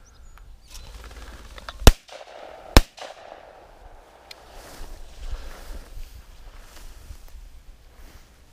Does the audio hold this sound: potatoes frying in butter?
no